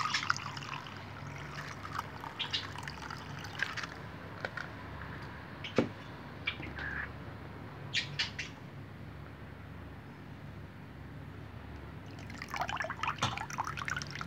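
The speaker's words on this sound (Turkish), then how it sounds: "Süzeceğim şimdi. Bunu bir türbent yardımıyla şu şekilde." Water steeped with eggshells is strained through cheesecloth, giving soft, scattered drips and trickles that come in small bursts with quiet pauses between them, close by and faint, with no voices.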